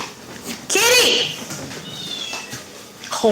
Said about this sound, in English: Oh, there's a kitty crying.